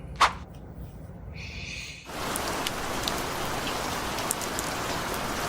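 Heavy rain in Bangkok pouring onto a flooded street, starting after a short quieter stretch with a sharp click, then a dense, steady loud hiss of drops filling everything.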